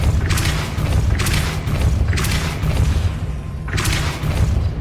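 Depulso force-push spells cast in the video game Hogwarts Legacy, four punchy booming blasts fired in a quick irregular sequence over a steady low background hum, with no talk.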